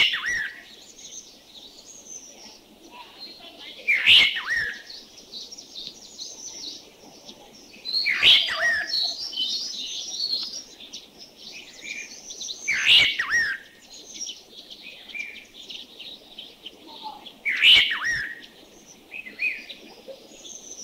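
A chestnut-crowned laughing thrush repeats a bright, whistled phrase roughly every four to five seconds, clear and fairly close, with softer chirps and quiet background between songs.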